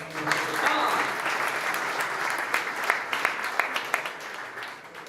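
An audience at a healthcare and biotech startup pitch competition applauds steadily for several seconds, a dense wash of clapping at moderate distance with a few sharper claps near the end.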